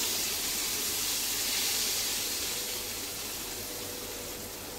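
Steady, loud sizzling hiss of hot oil tempering poured into kadhi curry, a continuous broadband frying sound that fades slightly toward the end.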